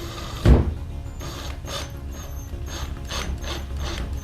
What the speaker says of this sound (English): Put the wrench on the nut.